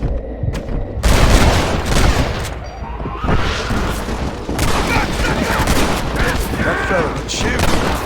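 Rapid bursts of gunfire in the video game Red Dead Redemption, loud and close, with repeated shots and booms clustered over several seconds and a voice briefly heard amid the shooting.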